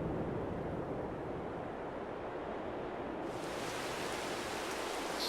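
Dense, steady rainfall in Farming Simulator 22 fills the scene as a loud continuous wash of noise, growing brighter and heavier partway through, with no voices.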